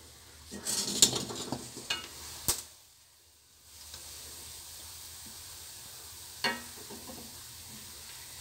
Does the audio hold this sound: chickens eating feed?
no